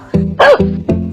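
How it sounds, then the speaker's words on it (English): A dog barks three times in quick succession, loud and close, each bark short and sharp with a brief gap between. "Dog."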